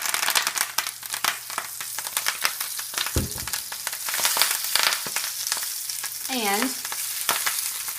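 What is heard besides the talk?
kale sautéing in a hot oiled pan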